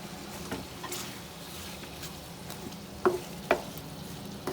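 Spices and tomatoes frying for beef liver fry, a steady soft sizzle with light stirring and two sharp utensil clicks near the end.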